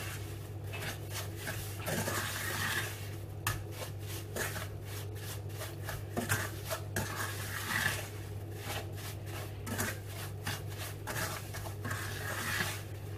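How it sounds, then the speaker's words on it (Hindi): Semolina being roasted in ghee in a pan over a low flame for suji halwa, soft repeated scraping and rubbing strokes of a spoon against the pan bottom in an irregular rhythm, quiet and close. "अभी हम सूजी की इस घी के साथ थोड़ी सी भुनाई करेंगे।"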